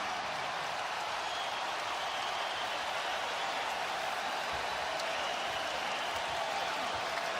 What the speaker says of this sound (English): And that gets this Ohio State crowd excited.